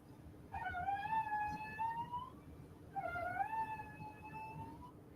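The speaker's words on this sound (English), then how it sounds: "So when we have the male wing beats," Recorded wing beats of a male frog-biting midge: two separate sustained buzzing whines, each lasting about two seconds, faint against a low background hiss.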